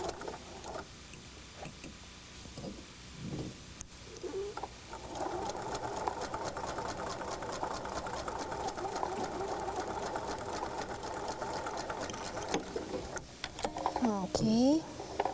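A sewing machine runs steadily, stitching fabric pieces for a quilted house block, with a dense mechanical chatter lasting most of the stretch after brief handling noises at the start.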